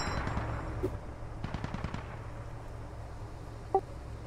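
Vehicle weapons fire in a military video game battle between a BRDM and a Stryker, faint distant bursts of rapid shots with a single louder crack near the end.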